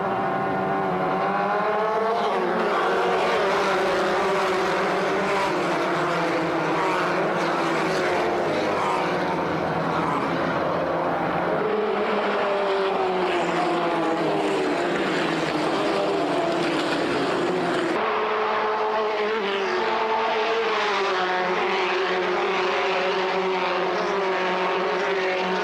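Race cars speeding around a dry track on a clear day, engines roaring and whining continuously with shifting pitch as they pass, loud and sustained.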